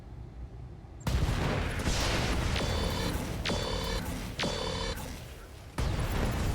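Mech weapons fire in the RogueTech mod of BattleTech: a sudden loud barrage erupts, then a run of repeated rhythmic bursts and heavy booms rolls on steadily, with a voice speaking underneath.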